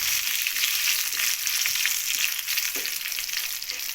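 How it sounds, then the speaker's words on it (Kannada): Curry leaves hit hot oil with browned urad and chana dal for lemon rice, giving a steady, loud, continuous sizzle with faint stirring scrapes and no talking. "ಉದ್ದಿನಬೇಳೆ ಮತ್ತು ಕಡಲೆಬೇಳೆ ಕೆಂಪಾದಮೇಲೆ ಕರಿಬೇವಿನ ಸೊಪ್ಪು ಹಾಕೋತಾ ಇದ್ದೀನಿ"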